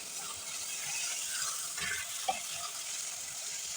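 Carrot and bell pepper fry in a pan with a steady, soft, close sizzle, and a brief scrape and tap of a utensil as they are stirred.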